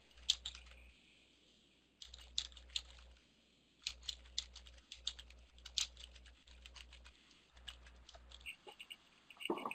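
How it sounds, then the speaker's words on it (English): Rapid, frantic typing on a computer keyboard comes in close bursts of dense clicks separated by short pauses, with a low hum under each burst and no talking. "Here's some frantic typing."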